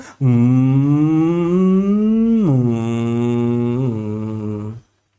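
A human voice imitates a vehicle or bike passing close by, a sustained hum that rises in pitch, drops sharply, then holds lower before cutting off, a single pass lasting a few seconds.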